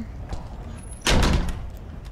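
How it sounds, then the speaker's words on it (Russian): A door shuts with a single dull thud in the horror game Apartment 1406, fairly close, against a quiet hum of background ambience. "Дверь закрылась."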